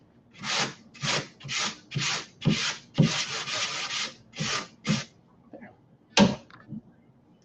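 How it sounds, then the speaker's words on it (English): Wood furniture being sanded with a flat sanding block, a series of close, rhythmic rubbing strokes in short bursts with brief pauses between them. "So I'll go ahead and take my flat sanding block to go over it"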